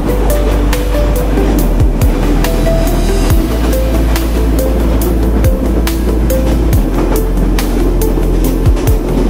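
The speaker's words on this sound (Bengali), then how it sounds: "এই ট্রেনটি 6600 সিরিজের EMD লোকোমোটিভ নিয়ে চলাচল করে।" A Sundarban Express train hauled by an EMD 6600 series locomotive runs along, heard as a loud, constant rumble with a low drone and rhythmic clacks of wheels over rail joints, without any talking.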